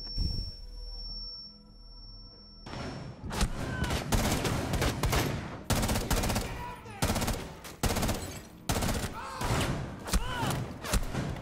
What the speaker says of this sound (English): How is he shooting me?